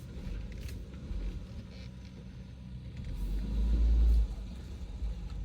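Car rolling slowly through a park: a steady low engine rumble and road noise throughout, swelling louder for a moment as it moves along, with no talking.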